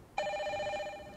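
A telephone rings once during a studio call-in segment of a televised medical talk show on osteoporosis. The ring is short and bright, clear, and not very loud.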